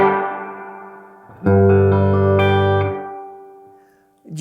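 Guitar played through a Universal Audio Golden Reverberator pedal with modulation added to the reverb, a sustained chord swelling loud and then decaying into a shimmering, wavering tail, with another note starting at the end.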